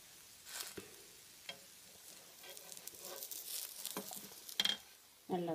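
Adai batter poured onto a hot pan on the stove crackles and sizzles faintly, with scattered bursts of hissing and soft scraping that come and go over a few seconds.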